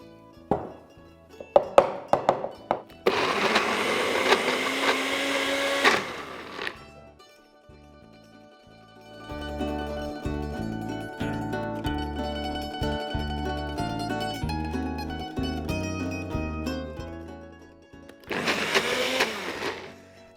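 A kitchen blender purees broccoli pesto in loud, steady whirring bursts, with a few knocks and taps at the start, a pause in the middle, and a final short burst at the end.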